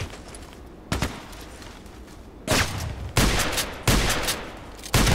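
A KelTec KSG pump shotgun firing in the shooter game Contract Wars: five heavy booming blasts, the first one isolated and the last four coming closer together, each followed by a short echoing tail.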